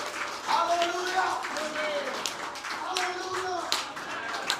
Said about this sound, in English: Come on, give Jesus a clap offering.